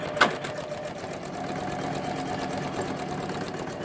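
A Janome Memory Craft 10001 embroidery machine stitches a scarecrow design with a steady mechanical whir and rapid needle chatter, close by, after a brief sharp knock at the start.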